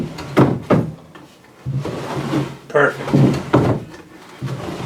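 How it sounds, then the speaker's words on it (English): A wooden drawer with a log face slides out of a handmade cabinet in an off-grid Alaskan log cabin, giving short scraping wooden sounds between bursts of nearby speech. "So you can reach underneath the drawer, grab this lip, and slide the drawer out."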